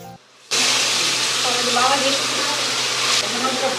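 Steady, loud sizzle of fish and vegetables cooking in a home kitchen, starting abruptly after a brief quiet moment and hissing continuously, with a voice talking faintly underneath.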